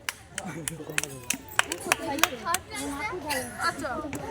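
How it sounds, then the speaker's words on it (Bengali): Scattered clapping from a small crowd at a children's sports prize-giving, irregular claps rising and falling over several seconds, mixed with children's chatter and people talking nearby. "বাহ হাততালি"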